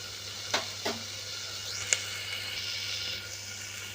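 Garam masala and coriander powder sautéing in a pan for veg paneer pulao, a faint steady sizzle broken by a few soft spoon scrapes and taps, with no talk.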